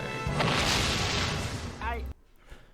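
An explosion plays back from a recording: a loud, dense, rumbling blast sustains for about two seconds and then cuts off abruptly, with voices mixed into the playback.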